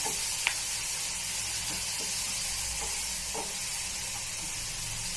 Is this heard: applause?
no